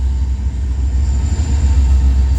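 A Union Pacific manifest freight train passes close by Central Avenue, a loud steady low rumble of rolling wagons with a faint high squeal over it.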